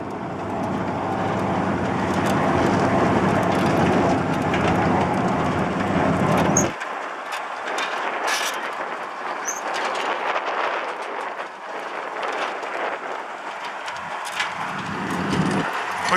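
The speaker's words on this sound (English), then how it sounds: "The spinner deck and floor chain are variable rate drive." A BBI spreader's variable-rate spinner deck and floor chain run up close, making a loud, steady mechanical din. A heavy low rumble drops away after about seven seconds, and lighter clattering machinery continues.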